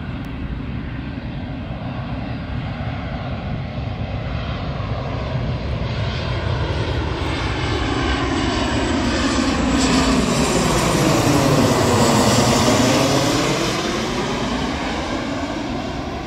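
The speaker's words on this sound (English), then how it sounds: "we are in the flight path for Tampa International Airport" An airplane passes overhead on approach to Tampa International Airport, its engine roar building steadily, peaking near the end and then starting to fade, alone with no talk.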